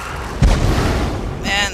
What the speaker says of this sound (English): And there was an explosion.